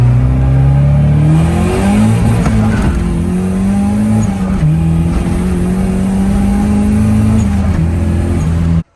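A Mazda Miata accelerates hard through its gears on a road in Mexico, the engine note climbing steadily and loud with brief dips at each shift, close and continuous with no talking.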